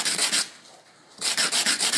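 A mosaic piece being sanded by hand, with short rhythmic back-and-forth rasping strokes, close and loud, a brief pause in the middle, then another quick run of strokes.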